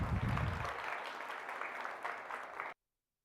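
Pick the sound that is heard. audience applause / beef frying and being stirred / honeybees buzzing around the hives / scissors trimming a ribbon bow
audience applause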